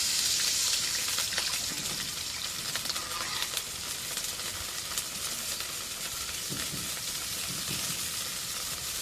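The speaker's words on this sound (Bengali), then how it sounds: "অল্প একটু পানি দিই" Water splashed into a hot frying pan of onions in oil, setting off a loud, steady sizzle and crackle that hisses on for the whole stretch with no talk over it.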